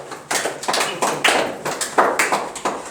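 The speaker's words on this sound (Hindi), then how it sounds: "बिल्कुल सही, जोरदार तालियां।" Students in a classroom clap together in a quick, rhythmic pattern of about ten evenly spaced sharp hand claps, close and fairly loud, with nothing else in the sound.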